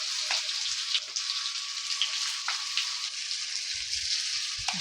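Potatoes seasoned with salt and turmeric fry in hot oil with a steady, close sizzle throughout, dotted with light spatters and the occasional low knock of a utensil.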